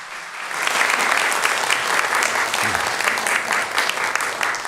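A church congregation at a Sunday morning service applauds, a full, steady burst of clapping from many hands filling the room for several seconds.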